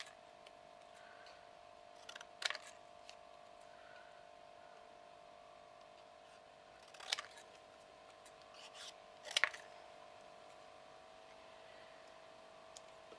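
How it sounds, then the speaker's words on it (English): Scissors cutting craft material to size, heard as three short, crisp snips spaced apart over a steady low hum, close and fairly quiet with no talking. "I'm just going to cut this to size."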